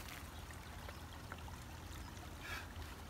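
Water trickles and pours steadily into a bucket holding a rare white lobster caught among tidepool rocks, a continuous close splashing flow with outdoor noise, no talking.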